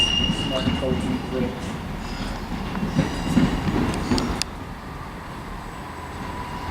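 A train passes through Shrewsbury station heading towards Birmingham International, a rumbling rail roar with some wheel clatter and faint squeal that drops away abruptly partway through, while people talk nearby.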